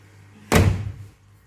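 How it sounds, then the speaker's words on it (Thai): A single sharp metallic clack of a door handle and lock being worked, brief and close, followed by quiet. "มือล็อกประตูนะครับเดี๋ยวผมจะให้ดูนะครับ"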